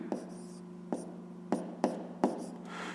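Pen strokes from writing out a fifth-grade math calculation, subtracting a fraction from a whole number, come as about five short, close scratchy bursts at irregular intervals over a steady low hum.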